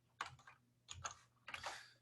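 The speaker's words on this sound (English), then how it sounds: "if I keep typing the file and hit tab, it will complete for me" A computer keyboard typed in short bursts during a lecture on system tools, three quick clusters of faint key clicks separated by brief pauses, with no talking.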